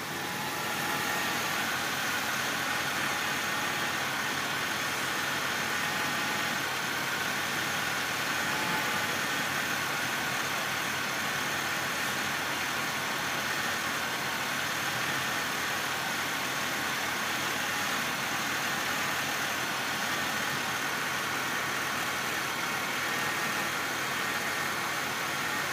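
A stock 3.8-litre V6 in a 2003 Chevrolet Impala idles steadily, a continuous mid-pitched engine hum and hiss that stays even and fairly close throughout with no talk.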